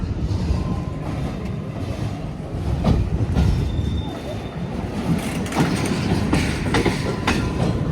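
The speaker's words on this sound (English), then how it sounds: "there's a train here that's coming on it that's going to be going over that swing bridge" A train rumbles past over a swing bridge with rhythmic clacking wheels and occasional faint squeals, loud and steady, fairly close by.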